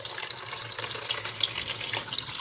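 Room-temperature tap water pours steadily into the reservoir of a 4-in-1 evaporative air cooler, a continuous close splashing stream with no talk.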